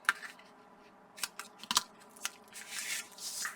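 Scissors trim paper down the center for a flip flap book, a few crisp snips and paper rustles close by, quiet and with no talking.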